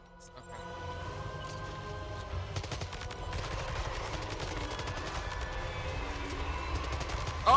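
Rapid, sustained strafing gunfire from an enemy in Death Stranding 2 rattles continuously and fairly loud for several seconds over a low rumbling background.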